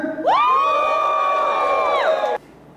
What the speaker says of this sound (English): Can I hear your cheer?